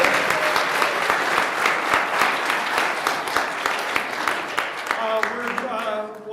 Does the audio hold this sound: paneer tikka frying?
no